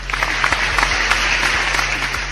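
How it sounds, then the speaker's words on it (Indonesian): An audience claps for a student council president arriving as a guest, a sustained wash of applause with a few sharper individual claps, under a low steady hum. "Tepuk tangan."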